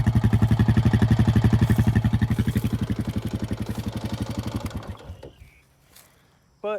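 A Honda Rancher 420 4x4 ATV engine idles up close with a steady rapid pulsing beat and a ticking valve clatter, which gradually fades and cuts out near the end before a brief final burst.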